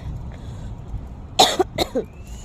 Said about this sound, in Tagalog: Nahawaan ako sa ubo.